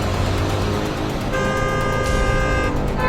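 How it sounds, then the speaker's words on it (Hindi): A vehicle horn blares steadily for a couple of seconds over loud, rumbling road and engine noise from a moving vehicle. "क्या चाचा, कब से हॉर्न बजा रहा है?"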